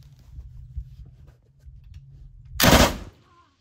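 A .50 or .30 caliber machine gun fires one loud, sharp burst on a Texas shooting range, standing well above a low background rumble and a few faint voices.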